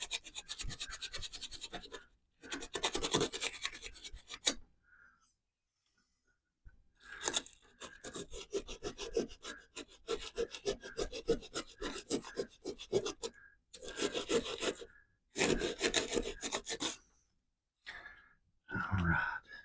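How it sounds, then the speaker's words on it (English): Rough scuffing of a metal spoon fishing lure with an abrasive, in repeated bursts of raspy back-and-forth strokes separated by short pauses, close up and fairly loud. "Give this a good scuffing."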